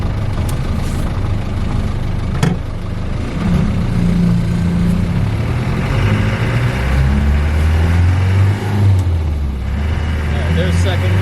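A 1990 Land Rover Defender 110 with a 200tdi diesel drives uphill in fourth gear, its low engine drone steady and loud throughout, with cabin rumble and occasional knocks.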